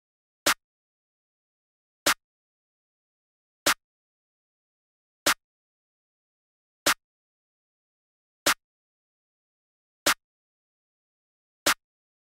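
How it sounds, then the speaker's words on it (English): Single snare drum hits from Splice samples played in Ultrabeat, eight sharp isolated strikes at an even, slow pace of about one every 1.6 seconds, with silence between them. "I just played this very simple snare pattern that sounded like this"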